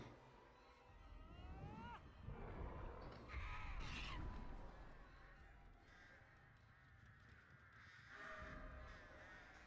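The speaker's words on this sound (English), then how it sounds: "Get rid of the birds." Crows cawing in the horror video game Dead by Daylight, repeated harsh caws over a busy game soundscape with mechanical noises, mid-distance and moderately loud throughout.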